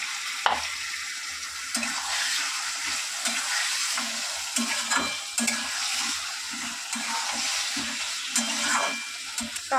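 Meat marinated with salt and turmeric fries in a hot kadai with a loud, continuous sizzle, while repeated scraping stirs and clinks of a utensil against the pan punctuate it at close range.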